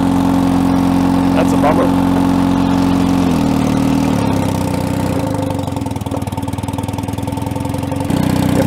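A long-idle Allis Chalmers track loader, its right steering clutch stuck, runs with a loud close engine drone that dips and labours as if near stalling, then picks back up, while someone speaks briefly over it.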